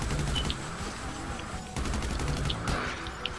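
Rapid gunfire in GTA 5 Online: sustained automatic shooting forms a steady, dense rattle throughout, with a few sharper individual shots standing out near the end.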